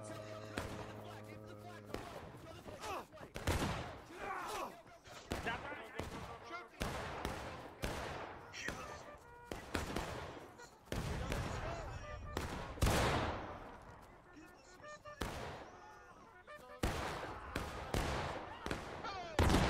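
Civil War battle reenactment charge: dense, irregular rifle volleys and single loud shots cracking again and again, with shouting voices between and under the gunfire.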